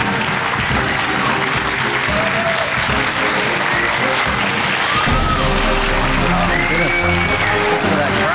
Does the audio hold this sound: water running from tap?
no